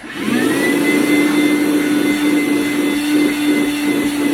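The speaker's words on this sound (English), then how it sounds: "So if you want to use the vacuum, then you can turn it on like that." A DeWalt 20V MAX cordless shop vacuum spins up and runs with a loud, steady whirring drone and an even tonal hum, close by and alone.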